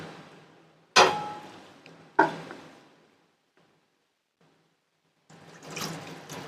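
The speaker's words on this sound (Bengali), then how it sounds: "সামান্য একটু জল দিয়ে দিলাম" Water poured into a cooking pan of chilli mushroom gives two sharp splashing onsets followed by decaying liquid sizzle, a quiet gap, then a softer rushing hiss returning near the end; close, with no talking.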